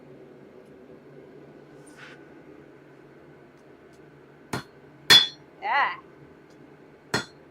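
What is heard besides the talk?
hammering metal on a broken anvil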